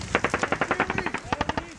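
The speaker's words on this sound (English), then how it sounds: "Where they're shooting at, I want you to shoot at." Machine gun fire in real combat with US Marines in Afghanistan, rapid loud bursts of sharp shots in a fast regular rhythm with a brief break partway through, close and dominant.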